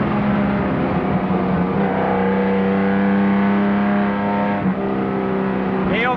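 Loud onboard engine roar from a 1962 Aston Martin DB4 GT race car at Spa, approaching Clubhouse corner in third gear, holding a steady droning pitch with a brief dip late on as the revs change.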